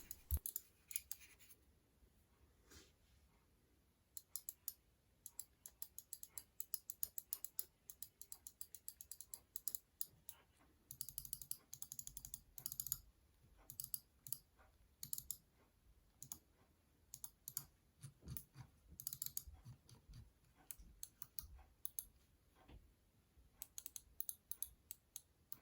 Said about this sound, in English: I'm gonna be silent for a few seconds in order for you to hear the true sound of when you press on the buttons.